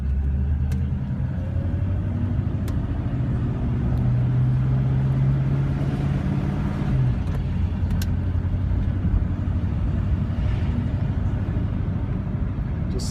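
A 1948 Cadillac driving with its old engine running, a steady low rumble and road noise from inside the car, constant and moderately loud with a faint brief squeak partway through.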